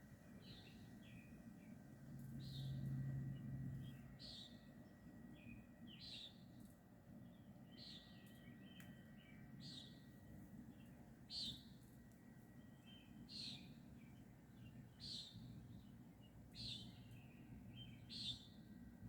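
Small birds chirp at 3:20 am, a steady run of short high calls repeated every second or so against a low constant outdoor hum, moderately distant and fairly faint.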